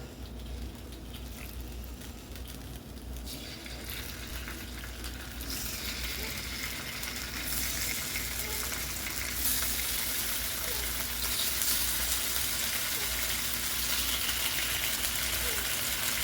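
Beef steak pieces sear in a hot pan for pepper steak, a continuous loud sizzle that swells and grows brighter as more meat goes in, with a voice over the frying.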